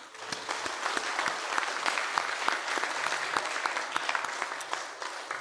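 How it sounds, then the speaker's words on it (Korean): Congregation applauding in encouragement during a Sunday worship service at a church, a steady, dense wash of many hands clapping together that stays even and fairly loud from start to finish. "여러분 격려하는 박수 한번 다시 하겠습니다."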